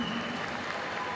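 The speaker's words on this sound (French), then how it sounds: "Merci à tous d'applaudir Waïl" Crowd applause between bouts at a combat sports fight night, a short, moderately faint wash of clapping with background crowd noise.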